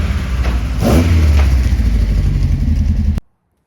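A 1979 Ford Escort RS2000 with a standard Pinto engine, IDF carburettors and a four-branch manifold revs loudly up close, a rough, throbbing drone that cuts off abruptly.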